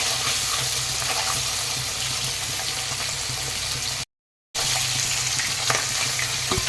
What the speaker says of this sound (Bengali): তো তেল গরম হয়ে গেছে এখন ভেজে নেব খুব বেশি ভাজবো না হালকা করেই ভাজবো মাছগুলোকে